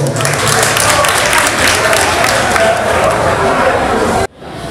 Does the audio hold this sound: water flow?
no